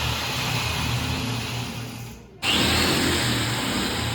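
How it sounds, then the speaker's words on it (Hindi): A power drill bores into a household wall to hang a photo during Diwali cleaning, giving a continuous loud grinding whir that dips briefly, then resumes slightly louder and steady. "दूसरा फोटो के लिए ड्रिल हो रहा है"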